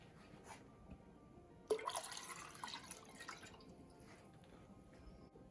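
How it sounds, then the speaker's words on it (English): Water pours steadily into a cooking pot for a few seconds, a soft splashing rush starting abruptly and then easing off, close and fairly quiet. "now we're going to add 4 cups of water"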